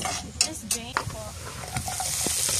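Edible beetles sautéed in a pan outdoors in the wilderness, close clattering stirring strokes over a rising sizzle, with brief voices talking alongside.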